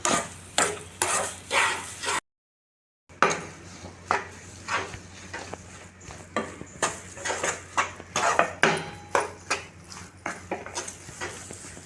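A spoon scrapes and stirs a thick sweet prasadam mixture around a pan in steady repeated strokes, close and fairly loud, with a brief silent gap early on and no voices.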